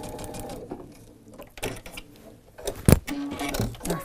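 Sewing machine stitching a seam on a paper-pieced quilt block, with short bursts of rapid needle clatter separated by pauses and a sharp mechanical click, close and fairly loud.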